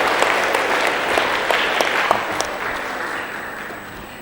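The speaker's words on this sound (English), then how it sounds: "an accolade and round of applause," Audience applause at a school music event's inaugural accolades ceremony, a steady dense round of clapping from a large crowd that holds at an even level for several seconds, with no talk over it.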